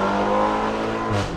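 A BMW G20 330i with a valved exhaust, freeflow downpipe and resonator revs hard, its engine note loud and close, climbing high and then briefly dropping off.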